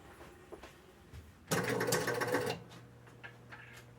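An electromechanical Spirit of 76 pinball machine powering on, a loud burst of relay clatter and buzzing mechanism lasting about a second, with quieter clicks before and after.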